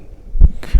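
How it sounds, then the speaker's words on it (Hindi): A heartbeat sound effect in a Hindi horror story, two deep, close thumps in a quick lub-dub rhythm over an otherwise quiet background. "अर्जुन ने दिल की धड़कन तेज महसूस की"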